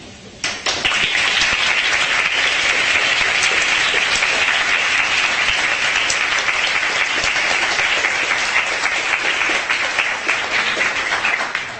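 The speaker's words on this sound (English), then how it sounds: "Just a round of applause for you all delegates." Sustained, dense applause fills a Model UN conference hall as delegates are congratulated for passing their resolution, loud and steady from start to finish with little talk.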